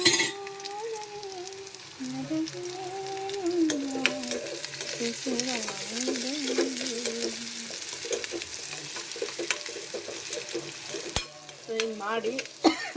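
Tempering spices sizzle and crackle steadily in a pan for a North Karnataka palya, with occasional stirring and clinks throughout, under background music.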